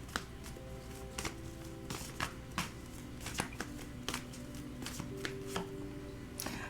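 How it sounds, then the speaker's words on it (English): Tarot cards shuffled and drawn by hand, a steady run of soft riffling taps and sharp flicks at close range, fairly quiet, with no talking. "I want to pull some love cards here for you."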